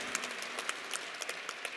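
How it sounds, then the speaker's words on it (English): A crowd applauds the new head football coach at a university introduction event, a soft, dense patter of many clapping hands at a distance with no distinct voices. "Give him a nice, warm round of applause"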